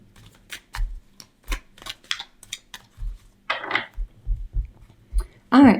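Tarot cards being shuffled during a pick-a-card reading: a series of short, crisp riffles and taps at close range, spaced irregularly with brief quiet gaps, followed by a short burst of flicking near the end.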